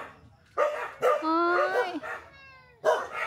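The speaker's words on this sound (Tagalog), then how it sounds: "Ito yung mga aso ko." Several pet dogs bark and yip in excited bursts close by, with a woman's exclamations mixed in between the barks.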